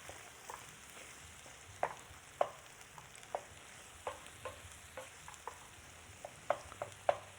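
Chicken mixture stirred in a pan as grated cheddar melts in, a soft continuous sizzle broken by light spoon taps and scrapes against the pan, close and quiet, with no voices.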